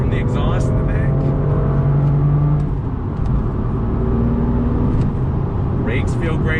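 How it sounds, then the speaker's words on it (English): A 2018 BMW M2 drives with a loud, continuous engine drone and a few sharp crackling exhaust pops at the rear near the start and end. "A little bit of pop from the exhaust in the back."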